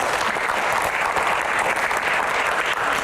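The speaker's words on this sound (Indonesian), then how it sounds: "terima kasih para panelis dan tepuk tangan paling meriah" An audience at a Q&A session applauds the panelists with steady, dense clapping that stays loud and even for a few seconds, with no speech over it.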